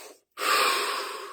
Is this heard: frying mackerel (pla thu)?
no